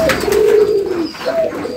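Pigeons, including an older breeding bird, coo in low rolling calls close by, one drawn-out coo followed by a shorter one; no talking.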